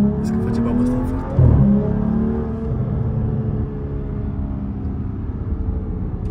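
A BMW 3.0-litre six-cylinder engine revs up loudly, then settles into a steady idle hum, with a voice talking briefly over it.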